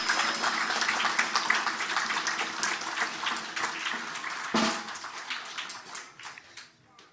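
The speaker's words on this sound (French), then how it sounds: "Je demande à l'Assemblée, encore une fois, d'applaudir ce couple-là, Judas et Élisabeth" Wedding guests applaud the newlywed couple, a dense spread of clapping from a crowd that thins out and fades near the end.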